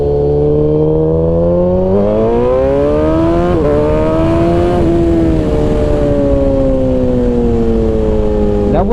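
A motorcycle on Pirelli Diablo Supercorsa tires pulls hard through the rev range, its loud engine note climbing steadily with a brief dip at a gear change, heard close as from the rider, with wind roar underneath.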